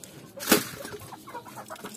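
Chickens on a small poultry farm cluck faintly, with one sharper, louder cluck near the middle and soft scattered clucks around it.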